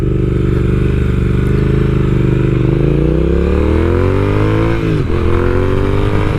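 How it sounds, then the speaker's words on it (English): A Triumph Speed Twin motorcycle engine rumbles at a low, close burble, then revs up in a smooth rising sweep, dipping briefly near the end before climbing again, loud and alone with no talk. "lovely low burble, and when you roll off the throttle there's great pops and crackles on the overrun"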